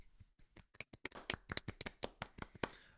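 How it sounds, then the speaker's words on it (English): A few people clap in a small room, quick uneven claps spread across a few seconds, close and fairly quiet, with no talking. "Gentlemen, I would like you to join me in giving Wayne Brady a round of applause"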